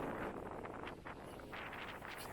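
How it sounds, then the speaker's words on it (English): Wind gusts across an outdoor microphone near a ramp, a faint, fluctuating rushing with soft buffeting and no speech. "It's very windy now."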